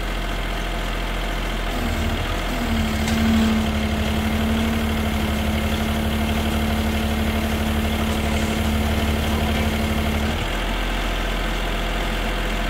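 The diesel engine of an IHI IS 30 GX mini excavator idles close by with a steady low rumble while it holds a concrete mixer off the ground, adding a sustained hydraulic whine for several seconds that then cuts out.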